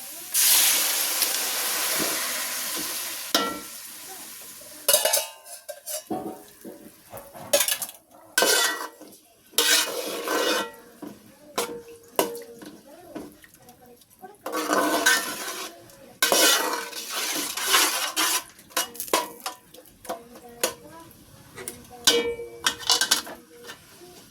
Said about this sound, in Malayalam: നമുക്ക് വേവിച്ച് വെച്ചേക്കുന്ന സവാള ഇട്ട് കൊടുക്കാം.